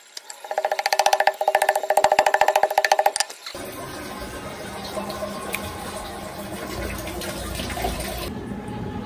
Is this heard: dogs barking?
no